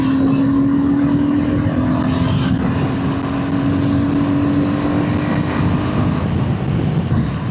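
A 2025 KTM 390 Adventure motorcycle engine drones loudly and steadily with a constant humming pitch, mixed with wind rush throughout and no voices.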